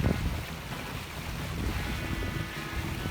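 Sailboat under way on the open sea off Kefalonia, Greece, a continuous broadband rush of wind and water against the hull with buffeting microphone wind noise, steady and fairly loud throughout.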